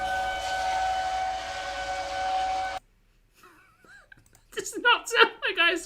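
A tornado warning siren in Eastern Jefferson County, Louisville, Kentucky drones loud and steady for nearly three seconds, then cuts off abruptly, followed by near silence and then a person talking.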